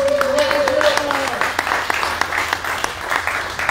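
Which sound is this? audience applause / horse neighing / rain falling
audience applause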